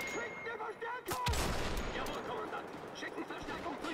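Video game gunfire from Wolfenstein The Old Blood, with bursts of shots over a busy, noisy battle mix and a loud blast partway through.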